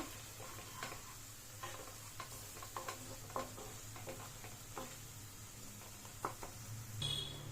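Onion, tomato and masala frying together for an egg gravy, a steady soft sizzle with scattered scraping stir strokes of a spoon against the pan throughout.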